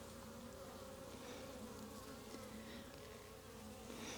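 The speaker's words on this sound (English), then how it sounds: "All of the bees are looking quite healthy." Honey bees hum around an open hive on a farm in Portugal, a steady, dense, faint buzz of many insects with no voices; the colony is healthy.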